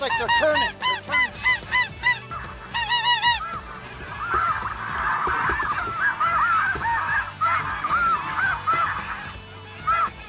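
Snow geese in flight over Manitoba hunting grounds give loud overlapping honks in bursts, then a busier stretch of more distant, layered calling from the flock before closer honks return.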